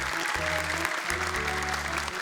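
A studio audience on an Indonesian Quran-memorization television contest bursts into steady, dense applause that fills the whole stretch, with soft tonal music running underneath.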